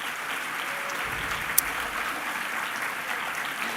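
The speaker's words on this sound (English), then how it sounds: "One more round of applause for our rapporteurs." Steady applause from a conference audience at a closing session in Rio de Janeiro, honouring the rapporteurs; broad, even clapping at moderate distance, continuing throughout with no voices.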